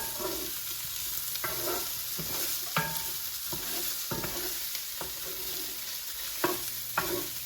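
Broccoli, sausage and instant brown rice are stirred in a hot frying pan under a constant close sizzle, with repeated scraping clicks of the utensil against the pan and no voices.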